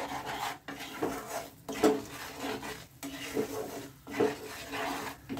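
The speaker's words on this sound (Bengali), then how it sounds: "এবার এটাকে আমি ভালো করে নেড়ে নিচ্ছি" Amla pickle spice mix with sugar and salt being stirred in a bowl, giving repeated scraping and rubbing strokes at a steady rhythm, close and fairly quiet, with no talk.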